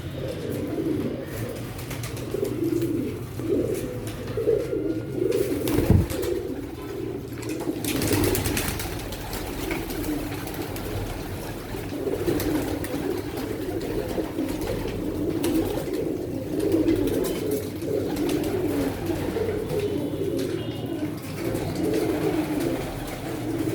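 Sialkoti pigeons, pearl-eyed fancy birds, coo steadily and softly at close range, overlapping murmurs carrying on without pause, with a brief sharper rustle near the middle.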